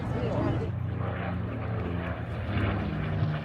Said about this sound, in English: I think we all recognise that amazing Rolls-Royce engine.